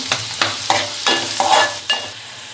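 Onion, garlic and curry leaves sauté in a hot pan, a lively sizzle broken by repeated scraping stirs of a spoon, close and fairly loud with no talking.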